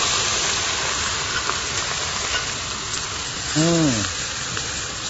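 Freshly grated onion purée going into hot oil for a prawn curry, giving a loud, steady hiss and sizzle, close up, with a brief voice sounding partway through.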